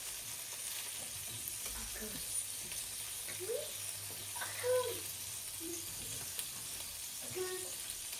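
Pancake batter fries in rendered fat in a pan, a soft steady sizzle with faint hiss, low in level, with brief quiet voice murmurs over it.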